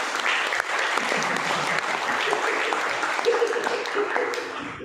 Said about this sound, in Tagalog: Dili ko ninyo gipalakpakan na ang Dios inyong gipalakpakan.